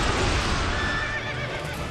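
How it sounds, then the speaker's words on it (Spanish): A horse neighs in the video game Dynasty Warriors 8 Empires: one loud, rough whinny of almost two seconds over dense battle noise, with no talk. "Salta el caballo."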